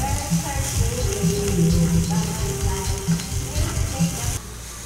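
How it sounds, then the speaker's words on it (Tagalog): Onion sautéing in butter in a pan. There is a steady sizzle with occasional stirring scrapes, and someone talks over it the whole time. "And a little bit of butter. Sauteing the onion."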